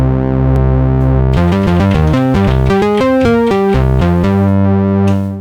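Elektron Syntakt synth pulse width swept automatically by an LFO: a loud, distorted run of stepping sequenced notes over a low drone, the timbre constantly shifting as it plays alone.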